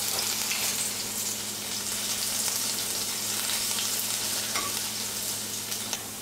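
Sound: ginger and garlic frying in oil

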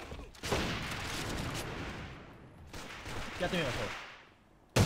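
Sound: gunfire from an assault rifle in video game AVA

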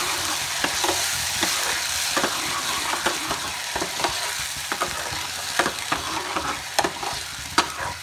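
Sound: stirring and frying lobia (black-eyed peas) masala in a pan

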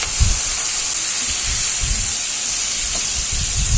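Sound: prawns frying in hot mustard oil in a wok

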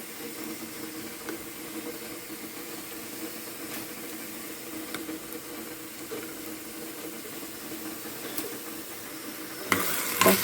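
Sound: vegetables frying in a pan

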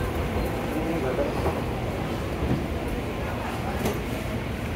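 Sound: riding inside a commuter train to Bogor

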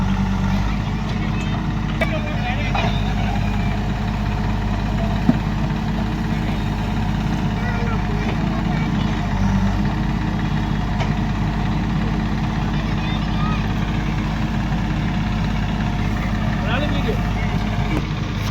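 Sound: tractor engine idling

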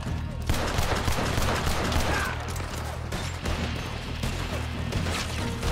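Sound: gunfire in a video game

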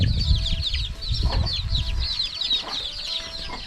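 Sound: chickens clucking

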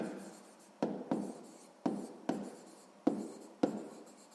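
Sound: writing in a notebook

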